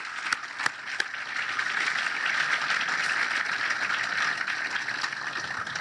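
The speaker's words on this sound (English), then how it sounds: "How about a round of applause for this great team of teams that made this happen today?" Applause from an audience at a military ceremony, the redesignation of Fort Hood to Fort Cavazos: a few sharp claps at first, then steady moderate clapping that holds evenly throughout.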